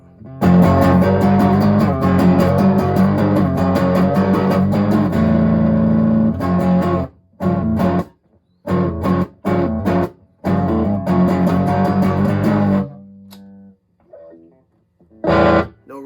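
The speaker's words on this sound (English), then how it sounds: "Go to the front pickup." Ibanez AX120 electric guitar on its front pickup with distortion, loud sustained chords giving way to clipped stop-start stabs and gaps, then a few quieter picked notes near the end.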